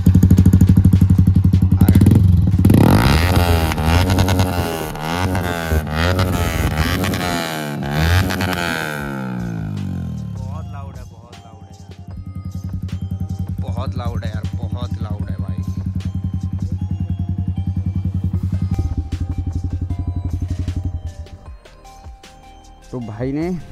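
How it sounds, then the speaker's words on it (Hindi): A motorcycle with an aftermarket Yoshimura exhaust revs hard several times in rising and falling bursts, then settles into a rumbling idle while people talk over it. "एग्जॉस्ट का साउंड सुन लो"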